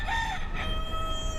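A feral rooster on Oahu crows in a brief drawn-out call at the start, followed by a sustained tonal hum under steady background noise.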